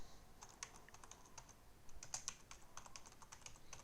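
A title is typed on a computer keyboard, a steady run of light, quick key clicks, faint and close, with no voices.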